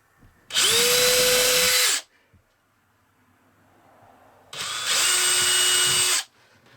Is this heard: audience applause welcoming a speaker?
no